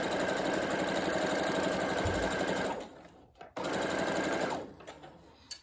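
A Brother CS6000i computerized sewing machine runs in a steady, rapid stitching whir for nearly three seconds, pauses briefly, then stitches again before slowing to a stop; close and fairly loud with no talk.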